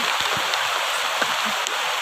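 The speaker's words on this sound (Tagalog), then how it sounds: "Lakas ng ulan dito ngayon." Heavy rain falls outdoors in a rural provincial setting as a dense, steady hiss with scattered drops and splashes; constant and fairly loud, with no talk.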